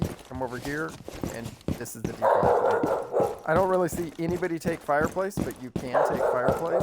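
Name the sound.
dog barking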